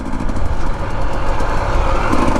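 A 2025 Husqvarna TE250 dirt bike engine revs hard and steadily on desert trails, a loud, continuous raspy roar held close up with no break.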